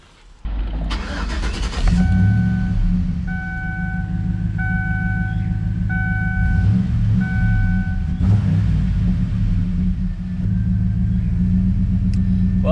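A 2011 Chevy Silverado pickup after a MAF sensor replacement, its engine cranking and catching, then settling into a loud, steady idle rumble close by, with a repeating beeping chime from the cab over it.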